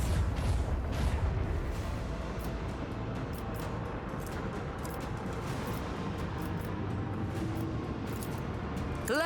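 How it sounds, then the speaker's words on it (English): Macro cannons firing in the video game Warhammer 40,000: Rogue Trader, a dense rolling barrage of heavy booms with sharp cracks layered over a continuous low rumble, loud and sustained throughout. "Unleash the storm of macro cannons."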